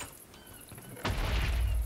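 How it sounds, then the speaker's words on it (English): Creeper explosions go off underground beneath the players in Minecraft, a muffled rumbling boom that swells suddenly and holds, heavy and low. "there were a bunch of creepers right underneath us that were just exploding"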